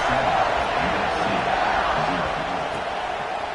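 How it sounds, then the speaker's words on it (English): Crowd buzzing in a college football video game after a score, a steady, dense roar of stadium noise that holds evenly from start to finish. "this crowd is buzzing after that last score"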